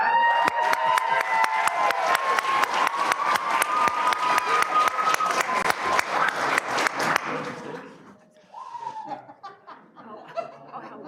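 Audience claps steadily in a dense, rhythmic burst for about seven seconds, then the applause stops and a few voices and light laughter follow.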